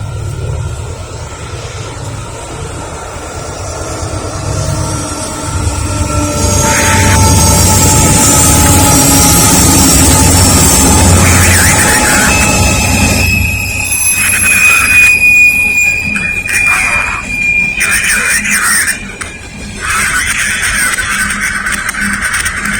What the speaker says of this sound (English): That's the empty coal car train I told you about.